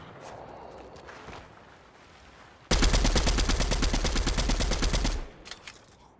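Gunfire in the Fortnite battle royale game, a loud, close burst of rapid automatic shots lasting around two and a half seconds, preceded and followed by quieter ambient game sounds and footsteps.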